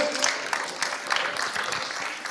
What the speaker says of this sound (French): Applaudissements pour Nathalie qui prenait des photos.